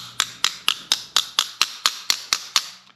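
A hammer straightens distorted metal on a Mopar-powered 1951 Ford sand buggy: about a dozen sharp, evenly spaced metallic strikes ring out up close, each decaying quickly, with no talk.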